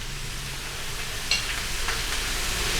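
Mixed vegetables with salt, red chili powder, turmeric, cumin and green chilies fry in a pan with a steady, even hiss that holds throughout at moderate loudness, with a faint clink partway through.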